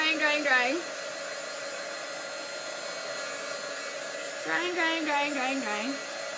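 A heat tool drying chalk paste on a craft project blows a steady, close whirring hiss throughout, while a person talks over it at the start and again near the end.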